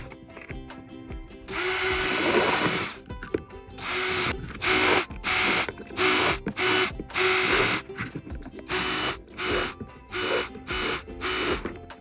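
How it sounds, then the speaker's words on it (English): A power drill with a 1/4 inch bit bores a series of holes in plastic: one long, loud whining run, then a rapid sequence of short bursts separated by brief pauses, close-up and alone. "I'm going to use a 1/4 inch drill bit, and I'm just going to drill a whole bunch of holes in here."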